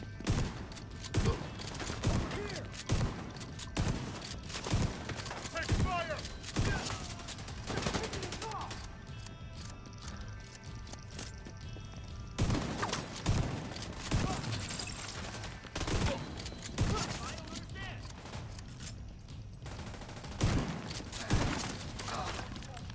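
Gunfire crackles in a video game: repeated sharp shots and rapid bursts hit in clusters, with quieter stretches between them and voices talking over the action.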